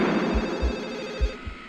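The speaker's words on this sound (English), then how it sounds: "The movie begins with a phone call." A telephone rings at the start of the 1996 horror film Scream, sounding as a steady electronic bell tone with low pulses over roughly two seconds, fairly loud and alone, with no talk.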